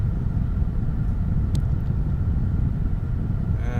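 Bishkek city traffic heard from inside a moving car, a steady loud low road rumble and engine drone with a faint short tone passing midway.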